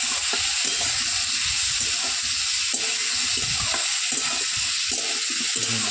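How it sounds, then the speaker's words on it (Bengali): Potatoes and soybean chunks with turmeric are stirred while frying in a pan, giving a continuous hiss of sizzling oil with irregular soft scrapes and clatter from the spoon throughout. "হলুদ দিয়ে পরে নেড়ে দিয়ে নাড়াচাড়া করে একটু ভালো করে মিশিয়ে"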